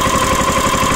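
The small engine of a STAR MRB0850W self-propelled tracked round baler, a simple motor of about 10 horsepower, runs steadily up close with a loud, even, rhythmic chugging and throbbing vibration.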